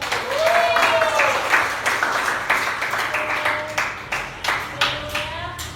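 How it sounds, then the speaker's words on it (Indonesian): A grade 11 class applauds at the end of a lesson, a brisk burst of hand clapping that starts loud and thins into scattered separate claps toward the end, with faint voices mixed in. "tepuk tangan buat kita semua."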